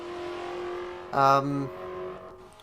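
A Mazda car engine at the Mount Panorama circuit hums steadily, then gives a brief, louder rev that fades back to a low, sustained drone.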